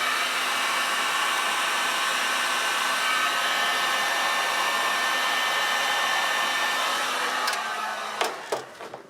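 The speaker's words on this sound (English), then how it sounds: "I use a heat gun. And I'll show you what that does" A heat gun blowing hot air to shrink tubing over a soldered wire joint, a loud, steady rushing hiss close by that cuts off near the end, followed by a few clicks.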